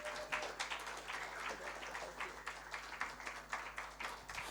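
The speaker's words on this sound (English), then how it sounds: "Please, let's keep giving her a round of applause." An audience applauds a speaker at a sustainable design expo in Africa: dense, fairly quiet clapping spreads steadily across the room, with sharper individual claps standing out.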